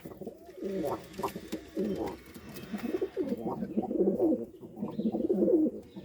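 Domestic pigeons coo repeatedly in a loft, close and clear, their soft rolling calls overlapping with someone talking nearby.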